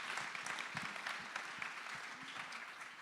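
Audience at a memorial lecture on architecture applauding the panelists: dense, steady clapping from a crowd, heard at a moderate distance and fairly quiet, continuing evenly throughout with no talk.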